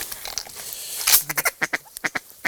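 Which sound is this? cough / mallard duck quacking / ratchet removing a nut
mallard duck quacking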